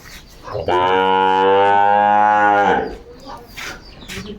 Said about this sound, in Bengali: এই দুটা বকনা কোয়ালিটি দেখেন